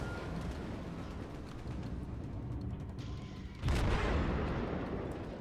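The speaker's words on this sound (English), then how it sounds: "So instead of missing all my shots in one barrage, I can kind of fire around it." A naval gunfire barrage in the World of Warships game, played as the cruiser Konigsberg: a steady rumble of distant firing, then a heavier booming volley that swells and lingers toward the end.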